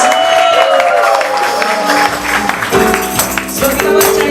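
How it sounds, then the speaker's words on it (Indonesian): A church congregation claps and cheers during a Thursday worship service celebrating the Ascension, a loud, sustained wash of crowd applause with voices and musical tones mixed in throughout. "Yang berikan lagi tepuk tangan terbaik buat Tuhan Yesus."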